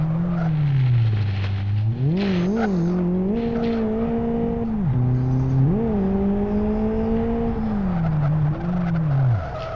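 A turbocharged Toyota AE86 in the Live for Speed racing game revs hard and climbs to high rpm, its engine whine rising and falling repeatedly with gear changes and occasional tire squeal, loud and continuous with no talking.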